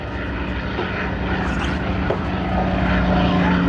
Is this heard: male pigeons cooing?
no